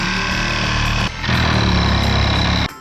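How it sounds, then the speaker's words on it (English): Power drill boring a pilot hole up through a van's metal roof, loud and close, running steadily, pausing briefly, then running again before stopping. "now I'm gonna send a pilot hole through, and then on top, we'll know where we need to drill down."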